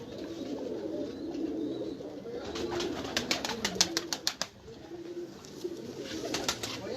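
Pigeons on a rooftop loft coo in low, throaty, repeated murmurs, with a burst of rapid clicking flutters midway and more toward the end, close and fairly quiet.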